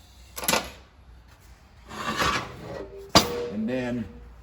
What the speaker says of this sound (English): I'm going to take 600 sandpaper and sand that case where the lip seals ride